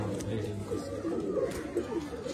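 Pigeons offered for breeding at a bird sale in Bangalore coo softly and repeatedly in the background, mixed with steady low murmuring and chatter from people nearby.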